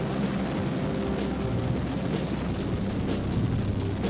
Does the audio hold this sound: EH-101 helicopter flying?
yes